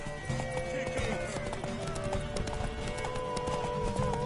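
Horse hooves clip-clop in The Witcher 3, a rapid rhythmic patter of hoofbeats under dense game music and effects, steady and fairly loud throughout.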